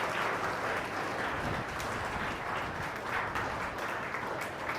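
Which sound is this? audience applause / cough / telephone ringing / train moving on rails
audience applause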